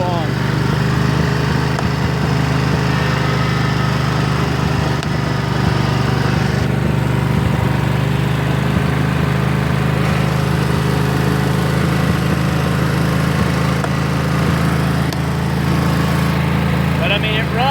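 An 11-year-old Husqvarna riding lawn mower runs with its PTO engaged, giving a steady, loud, close engine drone with the blades spinning and no break in the sound.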